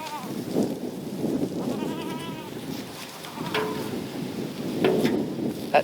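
Kiko goats on a homestead bleat a few times, with short wavering calls scattered over a steady farmyard background. They are fairly close and there is no talk.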